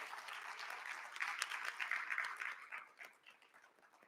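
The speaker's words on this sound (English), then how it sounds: "Join me in a big round of applause for the members who made today successful." An audience at a nursing pinning ceremony gives a round of applause, a soft even patter of many hands that swells in the middle and then fades.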